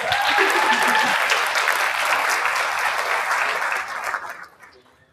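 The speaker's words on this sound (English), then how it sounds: "Let's give them a big round of applause." A crowd applauds loudly and steadily at a NAHREP event in Texas, with faint voices mixed in, before the clapping tapers off and fades near the end.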